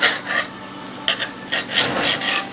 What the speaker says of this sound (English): And you would cut. And this is the way you cut.